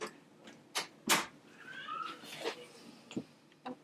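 A domestic cat gives a drawn-out meow mid-clip amid several sharp knocks and clatters nearby, all at moderate volume.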